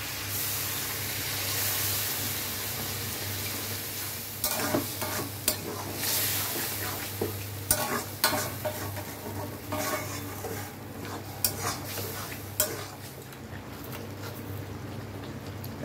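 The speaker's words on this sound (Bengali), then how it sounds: "এবার একটু জল দেবো।" Water is added to a frying pan of bottle gourd with poppy seed paste and green chilli paste, setting off a steady hiss of sizzling with intermittent scraping and stirring clatters of a utensil against the pan.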